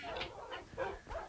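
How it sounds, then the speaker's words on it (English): Tamed dogs in Minecraft give a few short barks and yips in quick succession, moderately close, with no speech over them. "Man, my dogs are out of here"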